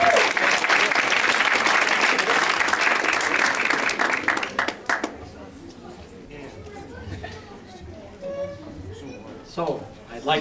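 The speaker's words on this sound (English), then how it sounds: "Let's give him a nice round of applause." A hall audience applauds a priest as he is welcomed: loud, dense clapping for about five seconds, then it thins to scattered claps and murmuring voices, with a final brief burst at the end.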